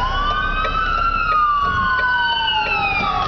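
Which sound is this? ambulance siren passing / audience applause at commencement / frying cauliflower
ambulance siren passing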